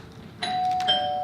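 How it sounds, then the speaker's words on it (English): A doorbell rings once at home, a clear two-tone chime ringing out bright and close after a quiet moment. "That's the doorbell, dear, not the telephone."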